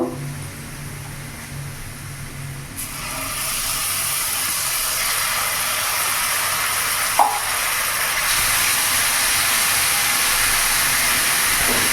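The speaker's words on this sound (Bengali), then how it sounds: "এরই মধ্যে এখন আদা রসুন লঙ্কার পেস্ট দিয়ে দেবো।" Ginger garlic chili paste hits a hot pan over a medium flame for restaurant-style kadai paneer, a loud steady sizzling hiss that rises a few seconds in and keeps going.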